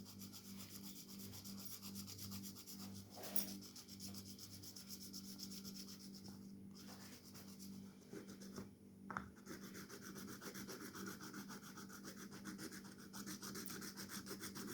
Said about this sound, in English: You take the pencil, you take the graphite pencil, and then you're just gonna scrape it out